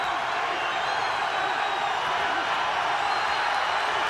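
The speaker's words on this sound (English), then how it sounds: "Crowd loves it" Boxing crowd at the MGM Grand roaring and cheering after a WBC fight between Morales and Chavez, a steady dense wash of voices with no break.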